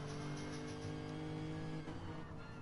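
Race car engine from a racing video game, a steady loud drone with layered harmonics and a brief dip in pitch and level near the end as the car is brought down through the gears.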